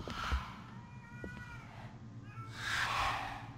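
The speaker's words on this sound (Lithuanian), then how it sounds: "Dar tas tualete numiręs kačiukas verkia, vargšas." A kitten cries in a toilet in a horror video game, thin wavering meows sounding twice, faint first and louder near the end, over a low background hum with a thump at the start.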